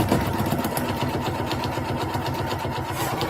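Sewing machine running steadily on a practice embroidery panel, stitching a seam forward then back with the presser foot lowered; close, continuous mechanical whir with a fast regular needle rhythm.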